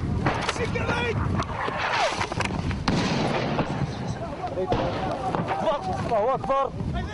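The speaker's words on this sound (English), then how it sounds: "3 explosions 50 yards away" Incoming rounds land about fifty yards away on a front line in Libya, giving several sharp, heavy blasts amid continuous noisy background, with people talking and shouting throughout.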